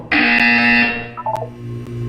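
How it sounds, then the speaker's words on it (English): Electronic buzzer from the Portal 2 video game, a single loud, sustained harsh tone lasting under a second, then fading into a quieter room hum with a few soft clicks. "When you hear the buzzer, look down at the floor."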